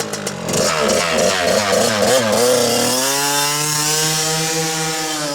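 A Polini 50 two-stroke motocross bike engine, freshly serviced with new fuel lines and premix fuel, revs hard with a raspy wavering buzz, then settles into a steady high drone, loud and close with no talk.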